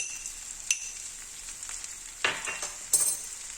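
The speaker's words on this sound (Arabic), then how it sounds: "وغادي نشحروا هاد الكفيته مع هاد البصيله" Minced kefta meat and onion fry in a pan with a steady sizzle, punctuated by a few stirring scrapes and sharp spatters, close and moderately loud with no talking.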